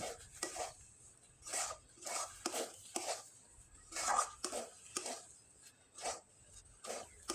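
A spoon scrapes and stirs thick semolina dough in a pan, a series of short, soft scraping strokes in an uneven rhythm with quiet gaps between them.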